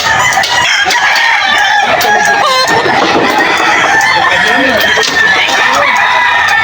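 A white Kelso gamecock crows loudly and close, with clucking fowl around it and people talking in the background at a rainy rooster sale.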